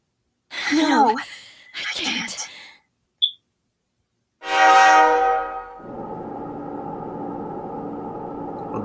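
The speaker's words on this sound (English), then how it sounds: "Inside the new city passenger train." Passenger train in the video game Persona 3 Portable, with a loud horn-like blare followed by a steady rolling rumble of the train running, preceded by brief speech-like sounds.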